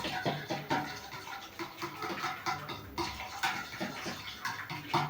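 Water poured from a full glass into cake batter for an eggless, oven-free cake, a soft continuous splashing and gurgling stream, close and fairly quiet, with no voices over it.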